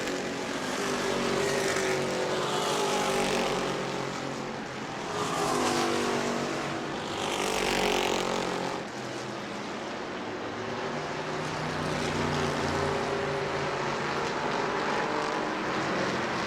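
Race cars roar past at speed during the New Smyrna World Series, engines swelling and fading in repeated waves as the pack circles the track, loud and continuous throughout.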